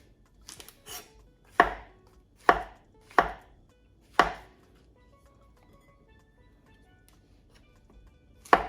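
A kitchen knife slices mushrooms on a cutting board for a beef stir fry, giving several crisp, separate chopping knocks at uneven intervals, close and clear with no talking.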